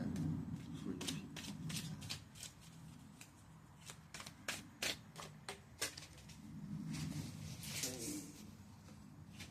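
Playing cards drawn from a deck during a reading, a series of short crisp flicks and slaps in uneven bursts, close by, with low murmuring underneath.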